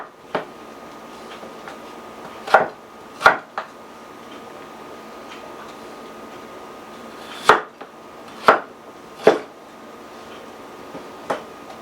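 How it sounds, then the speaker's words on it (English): A knife cuts steak into small cubes on a board, giving sharp, sparse chopping knocks at irregular intervals, close and distinct over a quiet kitchen background. "We'll cut these up small cubes."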